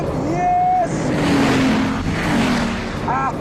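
A McLaren F1 and a Bugatti race at high speed, about 300 km/h. The engines give a loud, continuous roar with rising and falling pitch, and a voice calls out over the noise.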